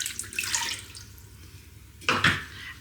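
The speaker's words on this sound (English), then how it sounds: "pour in your liquid" Liquid, about a cup, poured into the inner pot of a Ninja Foodi for a gammon steam roast, heard as two short splashing bursts against a quiet background.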